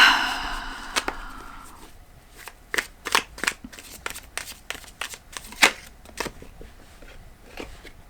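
Tarot cards are shuffled and pulled from the deck: a dry riffling burst at the start, then a run of sharp, separate snaps and flicks as single cards are drawn and laid down, close by and fairly quiet.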